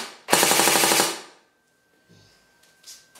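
An Umarex Massada airsoft rifle firing in full auto: one loud, fast rattling burst of about three-quarters of a second, close up, followed by quiet handling noises.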